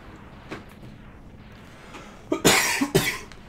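A person still recovering from a week of illness coughs two or three times in harsh, loud bursts close to the listener, after a quieter stretch of faint background noise.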